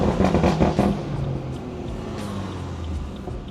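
A BMW B58 engine downshifting on a drive, heard as a loud close rumble with a quick rev burst at the start that settles into a steady low engine drone.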